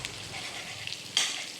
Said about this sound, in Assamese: পিঁয়াজখিনি অকণমান ৰঙচুৱা হোৱালৈকে ভাজিম